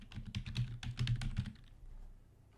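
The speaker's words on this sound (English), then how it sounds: "Just type it here, open the Windows PowerShell." Quick run of key presses on a computer keyboard, a dense burst of close clicks for about a second and a half, then quiet room tone; no voices.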